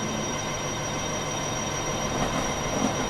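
Army cargo train rolling steadily on rails, a continuous rumbling roar with steady broadband rail noise and no voices.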